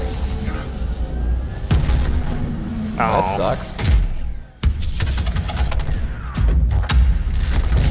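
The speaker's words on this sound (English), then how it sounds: "Good looking explosion. Sounds good." An explosion in a Call of Duty game trailer, with deep booms and thuds among dense battle noise and some shouting, loud and close, with commentators talking briefly over it.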